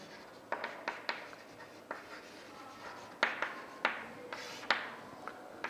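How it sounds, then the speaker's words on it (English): Pen strokes scratching across paper while data is written down for a strength-of-materials problem, a steady series of short scribbles with brief pauses, close and fairly quiet, with no voice. "Now let us write the given data first."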